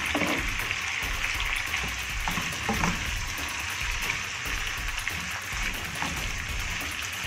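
Onion frying in a pan with meat for a mixed vegetable and meat tagine, giving a steady, loud, close sizzle that runs unbroken throughout.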